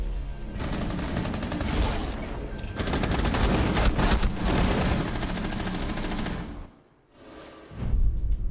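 Sustained automatic gunfire in Rainbow Six Siege, dense rapid bursts overlapping loudly for several seconds, then a brief lull before shooting resumes.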